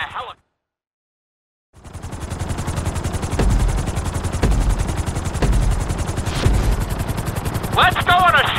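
A helicopter chops steadily in the GTA 5 video game, its rotor a loud rhythmic pulse after a brief silence, under in-game voices with sharp thumps mixed in.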